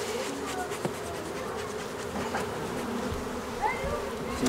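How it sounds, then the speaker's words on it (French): Dense, steady buzzing of many honeybees crowding honey-filled hive supers in springtime, heard close and continuous with no voices. "on découvre des hausses gorgées de miel. Bondées d'abeilles."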